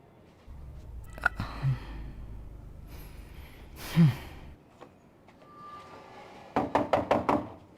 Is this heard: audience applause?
no